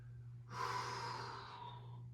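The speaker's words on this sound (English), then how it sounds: "breathing all the way in, all the way out" A single long, deep breath during a yin yoga flow, close and airy, rising suddenly and holding for about a second and a half over a low steady hum.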